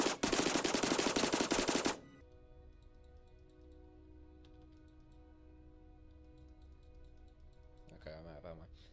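Rapid automatic gunfire from the video game Star Citizen fires as a loud, dense burst for about two seconds, then cuts off to a quiet hum with faint ticking, and a voice speaks briefly at the end.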